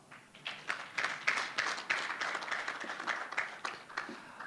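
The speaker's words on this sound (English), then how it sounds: "Please clap to her." Audience at a mental health and addiction conference claps for a speaker, a modest group's clapping swelling in and continuing steadily at a moderate, slightly distant level.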